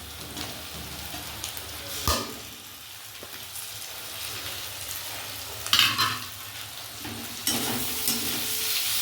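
Chopped tomato and green chili fry with ginger and garlic in a pan for a chicken dish, a gentle continuous sizzle broken by occasional louder stirring scrapes and clatters.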